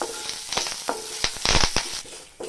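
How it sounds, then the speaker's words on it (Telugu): Curry leaves, spices and white lentils fry in a hot pan for a ridge gourd chutney, giving a close, crackling sizzle broken by several sharp pops and spatula stirring scrapes. "చూడండి, దోరగా వేయించుకున్నాం."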